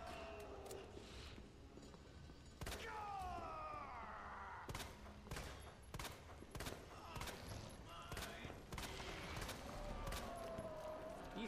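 Gunfire in the Resident Evil 2 Remake, played as Leon, with sharp shots cracking in a rapid, irregular series along with game effects and a creature's cries, loud and close.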